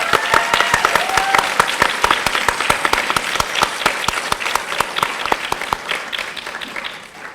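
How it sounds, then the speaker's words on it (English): An audience at a Model United Nations closing ceremony applauds in a dense, sustained round of clapping that stays loud for several seconds before tapering off. "Let us give a round of applause to all the members of the operations and the press teams"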